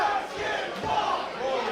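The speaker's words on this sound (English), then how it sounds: "This crowd continuing, despite the odds, to rally behind Jermaine Marbury." A wrestling crowd at a live show cheers and rallies behind a wrestler, a dense wash of shouting voices that rises and falls in waves throughout.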